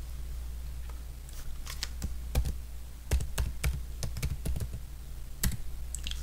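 Computer keyboard typing a chemical name into structure software, a quiet irregular patter of individual keystrokes over faint low electrical hum, with no speech.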